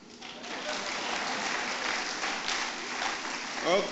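Audience at an annual conference clapping together in a sustained, dense burst of applause that holds steady for several seconds, with a brief louder swell near the end.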